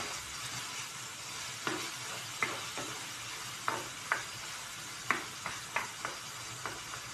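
Food sizzles and fries steadily in a pan, a soft continuous crackle punctuated by a dozen or so sharp clicks and taps of stirring, moderately quiet and close, with no talking.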